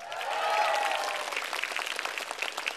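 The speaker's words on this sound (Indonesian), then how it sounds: "Karena lebih banyak tepuk tangan untuk gosong" A stand-up comedy studio audience bursts into applause, a dense wash of clapping that swells early and then breaks into looser, scattered claps toward the end, with a brief voice near the start.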